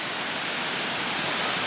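A waterfall at Four Hill Wood in the Brendon Hills, coming down from the top of the hill, pours as a steady, close, full-bodied rush of water with no other sounds.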